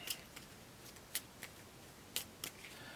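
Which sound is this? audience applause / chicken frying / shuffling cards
shuffling cards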